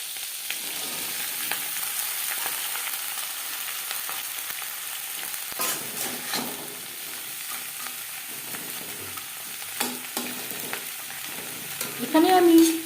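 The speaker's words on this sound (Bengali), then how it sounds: "পেঁয়াজ কলি ভাজবো হাই টু মিডিয়াম ফ্লেমে।" Four hundred grams of cut onion stalks frying in a pan over a high-to-medium flame, a steady close sizzle that runs throughout, with stirring clatters and scrapes now and then and a louder clank near the end, no talking.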